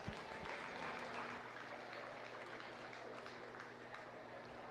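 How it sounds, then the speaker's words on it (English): Applause at a county fair livestock arena for the Toggenburg dairy goat class winner, a faint, distant, even wash of clapping from the stands that holds steady and thins slightly toward the end. "Let's give him a nice round of applause."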